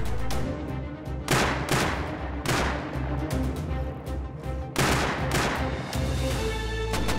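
Gunfire during a base raid in the survival game Rust, repeated sharp shots in several loud clusters over a low rumbling background, echoing around, with no voices.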